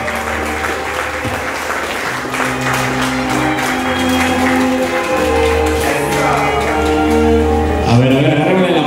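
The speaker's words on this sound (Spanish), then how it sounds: "¡Fuerte el aplauso!" Wedding guests applaud steadily throughout, their clapping sitting under loud, continuous music with sustained tones.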